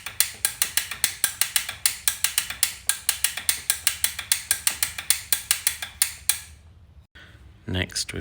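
Rapid, steady clicking of a ratchet wrench tightening the chain adjuster on a Kawasaki ZX6R motorcycle, about two dozen close, loud strokes in an even rhythm, then a short pause and a couple of scattered knocks.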